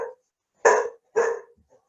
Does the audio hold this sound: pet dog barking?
yes